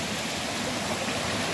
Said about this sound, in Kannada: ಅಲ್ಲಿ ಹರ್ಕೊಬಂದಿದ್ದು ನೀರು ಈ ಕಡೆ ಬರ್ತಾ ಇದೆ